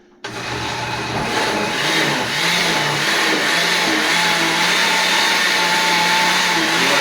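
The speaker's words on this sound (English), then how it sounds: "But you want to put it on the puree system. Puree setting." A blender kicks on suddenly and whirs loudly at puree speed, grinding black truffle Trinidad Scorpion pepper hot sauce, its motor pitch wavering slightly as the contents churn, steady and close.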